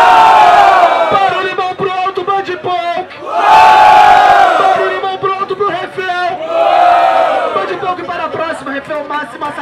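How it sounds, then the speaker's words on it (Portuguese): A crowd at a freestyle rap battle roars with cheering and shouting in loud, surging waves, the noise swelling and dipping repeatedly and packed with overlapping voices. "Barulho para a Band Punk."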